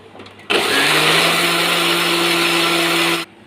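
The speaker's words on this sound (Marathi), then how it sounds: "हे आपण मिक्सरमध्ये बारीक करून घेणार आहोत." A kitchen mixer grinder blends soaked rice and cardamom with a little water for kheer, starting abruptly with a loud, steady high-pitched whir and motor hum that runs for nearly three seconds, then cuts off sharply.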